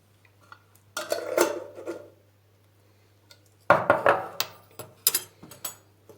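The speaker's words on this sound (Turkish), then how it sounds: "Bunu böyle çatalla karıştırıp iyice çırptım." A fork whisks a mixture of egg and oat bran in a bowl, producing two bursts of rapid metallic clinking and scraping, close and fairly loud, with a quiet gap between them.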